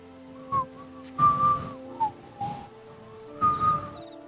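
Whistling in Final Fantasy XIV: a string of short, clear melodic whistled notes in separate bursts over a quiet, faintly humming background.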